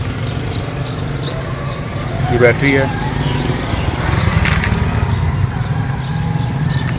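A 2019 United Bravo car engine runs with the bonnet open, a steady low rumbling drone close by. Someone talks over it throughout.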